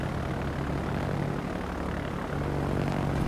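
Torpedo bomber aircraft engines in a naval combat video game, a continuous propeller drone holding steady at moderate level throughout, with no talk over it.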